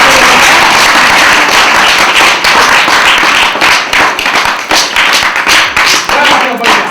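A child claps hands in a steady run of sharp, close claps that continue throughout, alongside background voices.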